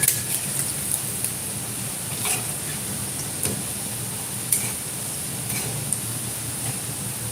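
Onion fritters (peyaji) fry in hot oil, a soft, even crackling hiss with scattered light ticks and pops throughout, fairly quiet and steady with no voices.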